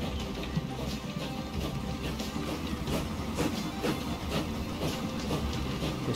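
A train rolls along rails in the Transport Fever 2 simulation game, a steady dense rumble with rhythmic clickety-clack of wheels over joints running continuously throughout.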